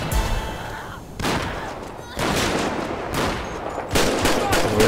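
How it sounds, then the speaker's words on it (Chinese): Gunfire aimed at zombies in a GTA 5 zombie mod, loud bursts of shots starting in clusters, with brief gaps and overlapping noise from the game. "我来先发个子弹打一下。 我要先射击这个丧尸，他们才会攻击。"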